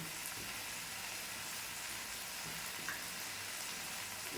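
Chili and turmeric powder fry in a pan, giving a steady, soft sizzle with a faint hiss and crackle, continuous and fairly quiet, with no voices.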